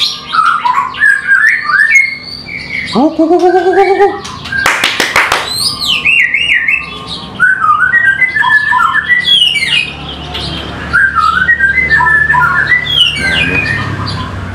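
A white-rumped shama (murai batu) sings loudly and close, its varied whistles, squawks and rising phrases running almost without pause, with another sparring bird's calls mixed in and brief human voices low underneath.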